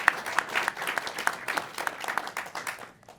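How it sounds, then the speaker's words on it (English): An audience applauds a panel host taking the stage at a talk on AI in education, a steady patter of many hands that fades out near the end. "Give her a big round of applause."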